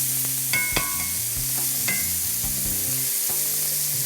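Broccoli stir-frying in a hot skillet gives a steady sizzling hiss with faint stirring scrapes, heard alongside tonal background music.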